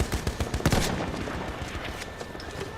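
Pistol shots in the video game Battlefield 1, a quick cluster of sharp cracks near the start followed by scattered fainter reports continuing steadily in the background.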